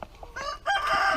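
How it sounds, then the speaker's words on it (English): Mr. Cake, a friendly cockerel, gives a short, close, loud crow or squawk lasting about a second, rising at the end. "Mr. Cake here, the friendly birthday cockerel"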